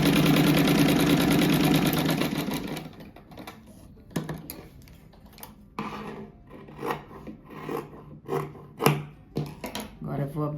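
A sewing machine stitching a seam on a fabric flower, first running as a steady buzzing whir for a few seconds, then giving way to scattered short mechanical taps and rustles of fabric being handled up close.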